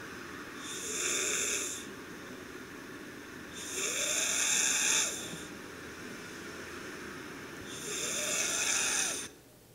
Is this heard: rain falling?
no